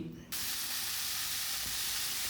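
Red spinach stirred as it fries in a pan, a steady, close hiss of sizzling oil that starts suddenly and continues unbroken.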